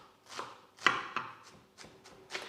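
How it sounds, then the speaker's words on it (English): A knife finely chopping an onion on a board: around seven crisp, uneven taps in quick succession, close up but quiet, with no talking. "just cut the onion as fine as you can"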